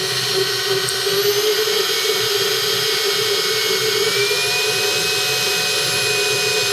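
A KitchenAid Artisan Plus stand mixer motor runs with a steady high-pitched whine and smooth hum, constant and close, with no talking.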